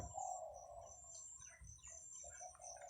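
A dove coos in the early morning countryside beside grazing buffalo, soft repeated calls with other small birds chirping faintly at a distance and no talking.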